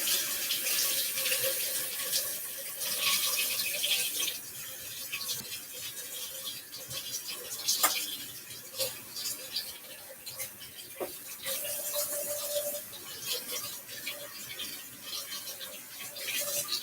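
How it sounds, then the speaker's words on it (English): Water runs steadily from a kitchen tap while hands are rubbed and washed underneath, a continuous splashing hiss with occasional knocks, close and fairly loud, with no talking. "Let me clean this up and wash my hands."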